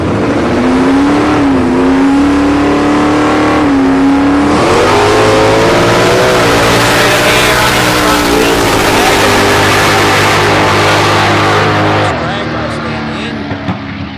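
A Ford Cortina wagon roars down a drag strip at a street race, engine revving loud and close with rising pitch through the gears, while an announcer talks over it.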